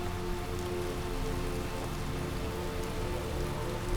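Steady rain patters down across surfaces in the open world of the video game Skyrim, a dense, even hiss of drops that continues without a break, with no voices over it.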